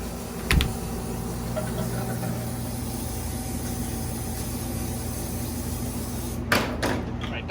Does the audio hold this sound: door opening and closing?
yes